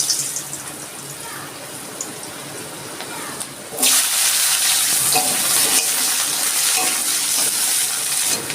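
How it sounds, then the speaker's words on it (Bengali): Potatoes fry in oil already used for fish, starting as a quieter sizzle with stirring and jumping into a loud, steady crackle partway through. "এইবার এই তেলে আমি আলুগুলো একটু ভেজে নেব।"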